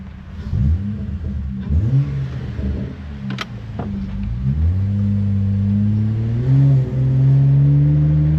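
A Pontiac G6 GXP engine fitted with a cold air intake revs repeatedly, loud and close, its pitch rising and falling in several blips before climbing into a sustained higher rev with a deep intake rumble.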